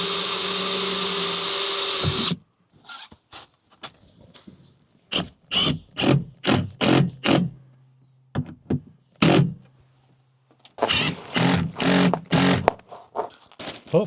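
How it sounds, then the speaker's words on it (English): A power drill pre-drills holes for large screws in a carpeted panel during a DIY camper van conversion. A long, close whir is followed by a series of short, sharp drilling bursts with pauses between them. "I need to pre-drill for these big screws because they are quite meaty."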